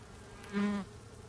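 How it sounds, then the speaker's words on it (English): Insects burst from a toilet bowl in a horror adventure game, a short buzzing skitter lasting under a second that swells and fades against a quiet background. "Bugs skitter from the bowl"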